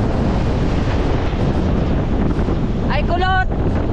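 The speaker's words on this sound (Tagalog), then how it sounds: "Sa lakas din ng alon at sa lakas ng hangin" Strong wind buffets the microphone in a constant loud roar over waves at sea, with a brief voice near the end.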